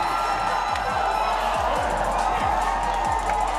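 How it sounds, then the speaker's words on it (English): Basketball crowd at a PBA 3x3 grand final roaring and whooping after a game-winning shot, a dense, loud, sustained wall of cheering with a few deep thumps underneath. "The crowd's going wild here,"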